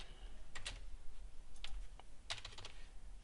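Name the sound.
typing an email subject on a computer keyboard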